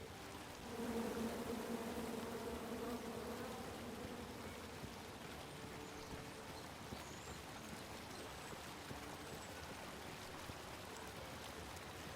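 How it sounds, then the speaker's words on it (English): Bees in the King's Quest video game, a dense continuous buzzing drone that swells near the start and then holds steady under constant background hiss. "Come at me, bees!"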